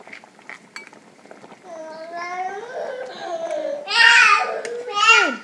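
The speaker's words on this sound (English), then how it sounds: "my daughter's teething, so she's making a lot of noise" A teething baby girl babbles and squeals in a kitchen while beef bouillon boils, her voice rising into louder cries and high, drawn-out vocal bursts toward the end, close and clear.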